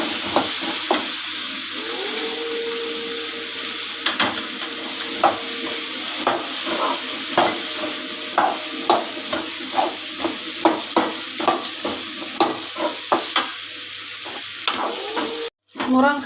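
Steady sizzling of drumstick (moringa) pods frying in a pan with turmeric for a spicy tamarind curry, with a string of short clicks and scrapes from stirring scattered throughout, and a brief dropout near the end.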